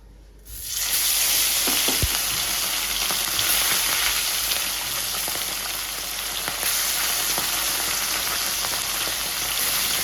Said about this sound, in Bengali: লবণ আর হলুদ দিয়ে মাছটাকে মাখিয়ে নিয়ে কড়াইয়ে দিয়ে দিই